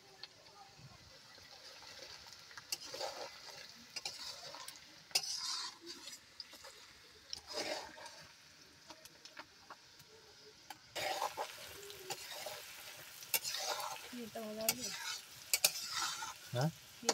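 Chicken fries with spices in a pan while being stirred for kosha, a soft sizzle broken by repeated scraping and clinking of the spoon, with a voice talking at times.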